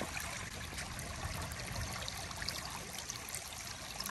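A stream flows beside a trail near Moab, making a steady, close rushing and trickling wash that runs without a break and has no talk over it.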